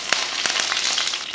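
Mustard seeds, urad dal and curry leaves frying in hot oil in a kadai, a steady close sizzle with a few sharp pops and crackles scattered through.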